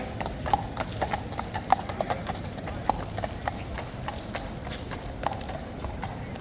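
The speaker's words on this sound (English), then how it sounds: "Police horses coming through with full riot kit." Hooves of police horses in full riot kit clip-clop steadily on pavement at Horse Guards, London, on Armistice Day, many horses walking together amid a dense crowd murmur and outdoor bustle.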